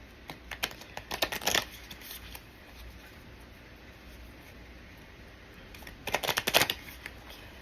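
Two bursts of crisp riffling and flapping oracle card shuffles, separated by a few seconds of quiet background hiss; close and fairly soft.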